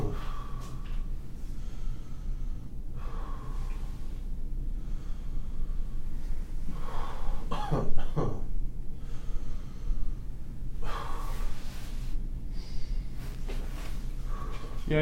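A COPD patient takes slow, tight breaths in and out during a paramedic assessment, several close, audible inhale-exhale cycles with a raspy edge.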